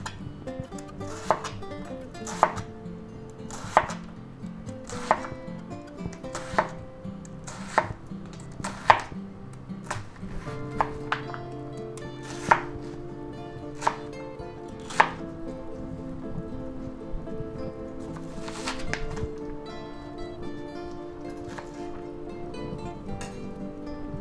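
A knife chops onions on a cutting board for chicken chop suey, a close series of sharp, fairly regular taps with a steady background hum and no talking.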